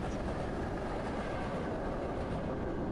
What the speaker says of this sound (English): like a train going right by me. A loud sound and impact.